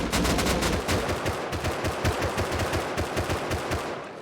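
Sustained rapid automatic gunfire in the game Rust as players shoot at an AK turret, a loud, dense, steady stream of shots from close by that continues for several seconds.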